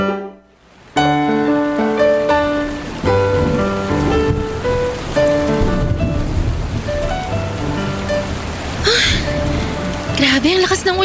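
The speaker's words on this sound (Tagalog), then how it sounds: "Grabe, ang lakas ng ulan." Heavy rain pours steadily at a roadside waiting shed, a dense continuous hiss under music playing throughout.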